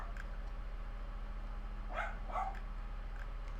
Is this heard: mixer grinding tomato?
no